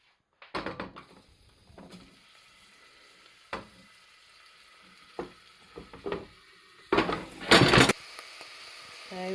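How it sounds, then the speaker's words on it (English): Onions fry in olive oil in a pan over gentle heat, a soft sizzle broken by scattered clatters and knocks of utensils and kitchen movements, with a louder burst of clattering near the end. "So onions are frying nicely there"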